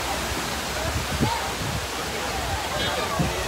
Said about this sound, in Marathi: हे एक छोटासा झरा आहे